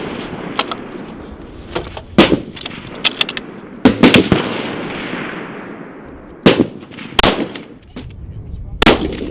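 Rifles fire at a long range shooting competition: several sharp, loud cracks come at irregular intervals, some with rolling echoes, and fainter shots sound in between.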